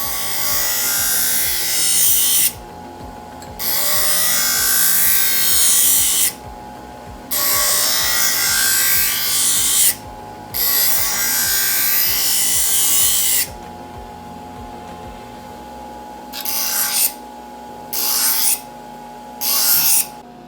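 Metal blade sharpened on the grinding side of an electric grinder, loud whirring bursts of grinding broken by short pauses, close up.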